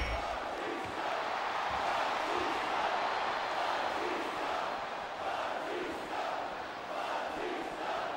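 A wrestling arena crowd in the PS2 game WWE Smackdown vs Raw 2008 keeps up a steady, roaring murmur during a hardcore match between Batista and Mr Kennedy, with swells of chanting and cheering throughout.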